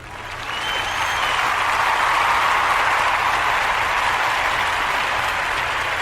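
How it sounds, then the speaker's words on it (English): Applause for a guest from a live audience swells over the first second into steady, dense clapping. It holds loud and even for several seconds, with no talk over it. "Give her a round of applause for Mrs Conservative Papi, my wife"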